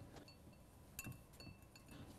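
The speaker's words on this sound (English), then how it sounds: "Stir it well." A spoon stirs potassium permanganate crystals in a glass of water, making a few faint, bright clinks against the glass over a quiet background.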